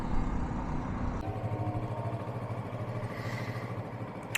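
Kawasaki Versys 650 motorcycle engine idling steadily then pulling away as the ride begins, a continuous close engine drone with a low rumble.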